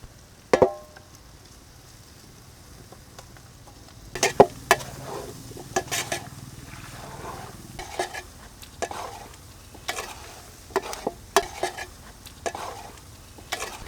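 Chicken liver with onions in a pan, a soft steady sizzle under repeated stirring and scraping clatters of a spatula against the pan, irregular and close.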